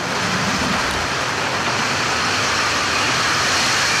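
An Atlas V 531 rocket lifts off, a dense, steady broadband roar with no breaks, loud and continuous like distant rocket engines thundering.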